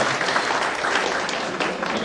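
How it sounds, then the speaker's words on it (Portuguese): An audience at a corporate talk gives a round of applause for a speaker, steady and fairly loud throughout with no individual claps standing out. "Uma salva de palmas pro Peter"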